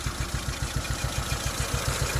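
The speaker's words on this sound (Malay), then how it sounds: "anda boleh dengar dia punya enjin bergegar dan bunyi pun tudut" A Proton Wira sedan engine idles roughly with a misfire, its low, uneven chugging pulses thudding in a steady but lumpy rhythm up close.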